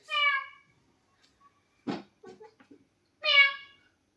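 A mother imitates a cat, giving a clear meow, then a second drawn-out meow a few seconds later, close and alone in a quiet room, with a few soft voiced sounds in between.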